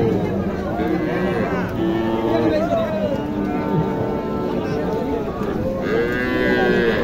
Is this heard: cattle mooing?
yes